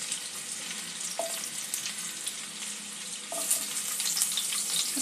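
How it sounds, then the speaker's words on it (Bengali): Chicken and spring onion greens fry in a pan with a loud, continuous sizzle that swells near the end, broken by a couple of faint utensil clinks. "একটু ভেজে নেব।"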